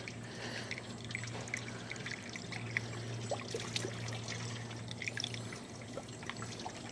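Water poured into a Chevy V8 casket car's radiator, a continuous close trickling and gurgling pour with a low steady hum underneath.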